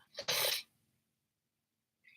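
A single sharp sneeze bursts out close by, followed by silence and a faint voice starting at the end.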